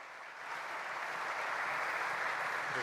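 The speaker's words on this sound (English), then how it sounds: "A round of applause." An audience applauds to open an evening ceremony as the director is introduced, a fairly faint, distant wash of clapping that swells in after a moment and holds steady.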